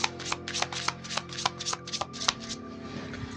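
Tarot cards being shuffled by hand, a quick run of crisp riffling snaps in an uneven rhythm, close up and unaccompanied by talk, ending in a softer rustle.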